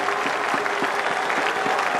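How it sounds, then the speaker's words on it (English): Crowd applause at a 2005 Bangladesh versus Australia one-day cricket match, a broad steady wash of clapping from the stands, fairly loud and unbroken throughout. "Great applause."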